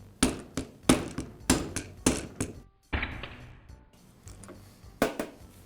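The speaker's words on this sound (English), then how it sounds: "I'll use a mallet to tap the bearing free." A mallet strikes a socket against a Toro lawn mower wheel bearing in its hub, giving about eight sharp, ringing metallic taps at a steady pace, loud and close, with a pause midway.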